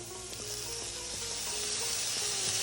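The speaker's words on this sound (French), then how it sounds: "on laisse revenir à feu moyen cette fois-ci, que l'ail ne brûle pas" Garlic and vegetables frying in a pan over medium heat for a cauliflower curry, a steady close sizzle with faint stirring clinks.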